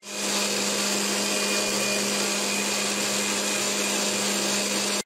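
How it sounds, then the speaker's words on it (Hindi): A mixer grinder grinds moong dal into dosa batter, a steady, loud, high-pitched motor whine with a constant hum that runs without a break and stops abruptly at the end. "इसको मिक्सी से चलाना है, मतलब मिक्सी से अच्छे से इसको चलाना है"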